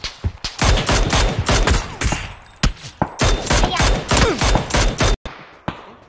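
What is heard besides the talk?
gunfire in a video game shooter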